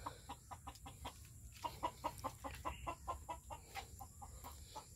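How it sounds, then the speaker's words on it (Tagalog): Chickens clucking close by in a rapid, rhythmic series of short, quiet clucks while being fed, with a faint steady hum in the background. "Ito, napatuka ko na yung mga manok guys."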